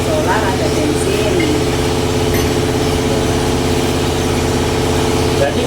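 A diesel engine powering a tofu grinding machine in a small tofu-making workshop, a steady loud idling drone with constant low vibration, heard throughout with no break.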